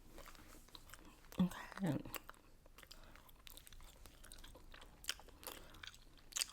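Soft, close chewing of a freshly unwrapped stick of gum, with a few moist bites and crunches amid quiet whispered speech in an ASMR setting.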